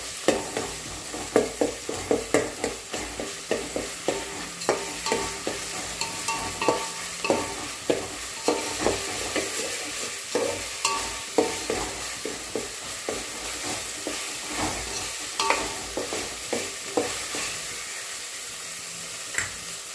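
Ginger garlic paste is stirred while frying in a pan for chicken curry, with repeated rhythmic spatula scrapes over a low, constant sizzle, close and fairly loud.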